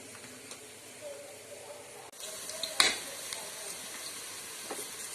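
Onions fry in a pan toward a golden-brown birista colour, giving a faint steady sizzle with a brief sharp clatter midway; a voice talks softly underneath.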